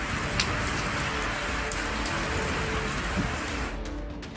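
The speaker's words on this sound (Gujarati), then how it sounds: "માત્ર 66 મિલીમીટરનો વરસાદ અને આવી હાલત થઈ ગઈ છે પોરબંદરની." Steady rain pours on the streets of Porbandar during a 2.5-inch downpour, a loud continuous hiss with occasional sharper drips, fading slightly at the very end.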